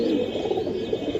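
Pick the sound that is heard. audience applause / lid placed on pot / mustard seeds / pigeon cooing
pigeon cooing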